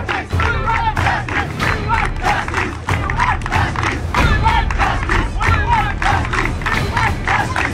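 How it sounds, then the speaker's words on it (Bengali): A large football crowd in a stadium gallery at a Mohun Bagan semi-final chants the slogan 'Justice for RG Kar', a loud rhythmic mass chant repeating in steady pulses from many voices. "শেষ পর্যন্ত মোহনবাগানের সেমিফাইনাল ম্যাচে গ্যালারিতে জাস্টিস ফর আর্জিকর সেই স্লোগান উঠল"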